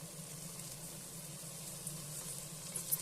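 Soaked rice fries in oil for avarekalu pulao and is stirred slowly, giving a faint, even sizzle with a soft hiss and a couple of tiny pops near the end, without speech.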